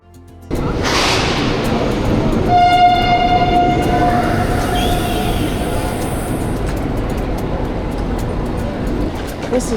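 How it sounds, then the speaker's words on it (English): An SJ sleeper train pulls into Hamburg Hauptbahnhof with loud, steady rail rumble and a tonal horn or squeal sounding mid-way, heard up close in a busy station. "This is the SJ sleeper train to Stockholm."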